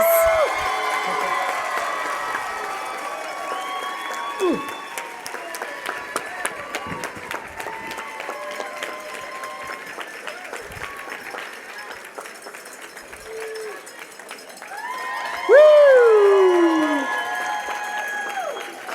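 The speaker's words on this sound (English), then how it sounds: "Please, another round of applause." Audience applause and cheering greet the announced winner of the Natural Products Expo West Pitch Slam, a steady crowd roar with claps and whoops, a host's voice talking over it and a louder burst of cheering near the end.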